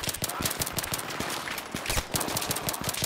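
Rapid bursts of gunfire in the video game Battlefield 3, including a sniper rifle, crack in dense repeated volleys that fill the whole stretch, loud and close.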